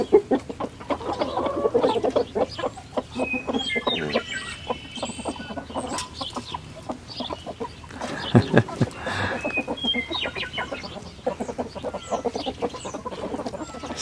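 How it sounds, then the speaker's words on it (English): A flock of chickens cluck and chatter continuously nearby, with scattered louder squawks over a busy outdoor background. "here come the chickens"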